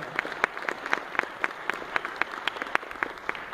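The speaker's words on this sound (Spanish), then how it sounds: "Un aplauso para los leguinos." An audience claps in an even, rhythmic beat, like a group clapping in time at a live music event with a cueca orchestra. The clapping is moderately loud and close and continues for a few seconds.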